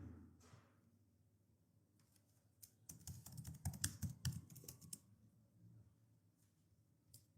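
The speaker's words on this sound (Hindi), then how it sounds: "बल्कि इसको मैं यहाँ पर इस सेक्शन में टाइप कर लेता हूँ।" Computer keyboard typing entered into an Amazon research tool, heard as a dense, quick burst of clicky keystrokes in the middle, with quieter scattered taps before and after, fairly close and alone.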